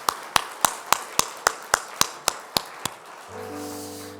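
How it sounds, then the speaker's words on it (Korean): Members of a church congregation clap together at a revival meeting, about ten sharp evenly spaced claps in a steady rhythm that stop after three seconds, followed by a soft sustained tone. "우리 가운데 운행해 주신 하나님께 영광의 박수 다시 한번 올려드릴까요?"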